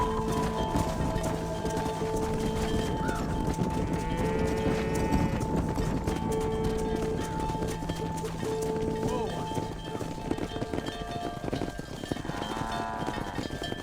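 Horses and cattle move as a herd in the video game Red Dead Redemption, with steady hoof clip-clops, occasional whinnies and a constant rumble, while voices speak over the movement.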